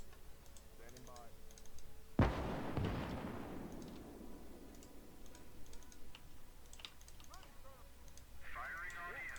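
Gunfire against an enemy position in Call to Arms: Gates of Hell, a single sharp, loud blast with a fading rumble, surrounded by quieter clicking and faint radio chatter.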